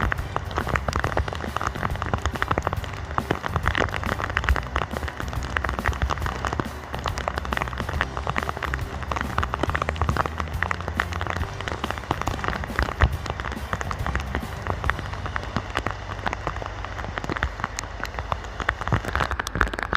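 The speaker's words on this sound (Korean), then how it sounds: "비가 계속 내리는 상황에서" Steady rain falls outdoors, a dense and constant patter of drops hitting surfaces with no break, fairly loud and even throughout, with no talking.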